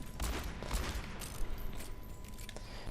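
Game gunfire rings out as a continuous, rumbling volley of shots under a busy, loud background mix, with sharp individual reports poking through at irregular intervals.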